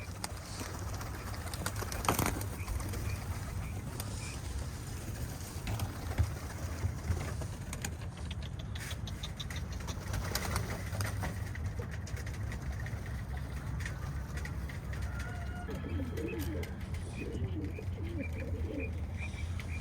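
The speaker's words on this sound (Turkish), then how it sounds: "Denek güvercinler yine havada." Roller pigeons coo and flutter among a steady outdoor hum of a distant idling engine, with scattered wingbeats and bird calls throughout.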